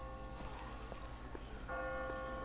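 Church bells ring faintly and distantly in The Walking Dead video game, their sustained tones rising above a quiet, murky ambient background for the last second or so.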